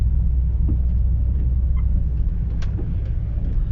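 A car rolls along a muddy country road in early spring, a steady low engine and tyre rumble heard from inside the cabin, continuous and fairly loud throughout.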